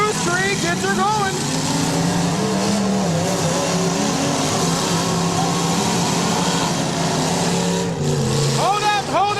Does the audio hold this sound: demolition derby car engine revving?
yes